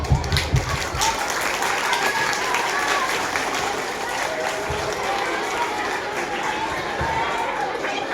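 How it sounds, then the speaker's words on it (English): An audience at a kids' karate showcase applauds with steady, continuous clapping that fills the room, mixed with crowd chatter and voices throughout. "Clap for everyone."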